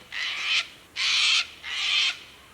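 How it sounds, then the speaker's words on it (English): Cockatoos screech in three long, harsh bursts, one after another with short gaps, sounding fairly near and loud against a quiet background. "I'm just gonna have to excuse those cockatoos"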